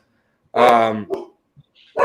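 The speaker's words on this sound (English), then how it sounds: "This dog is just loving the bark here in Enzo." A dog gives one loud, close bark followed by a shorter yelp, then a brief second bark at the end, in an otherwise quiet space.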